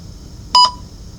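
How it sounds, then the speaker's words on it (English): A short electronic beep, a brief two-part tone signalling the start of a recorded speaking response in a TOEFL test, loud and clean over a faint steady hiss. "Please begin speaking after the beep."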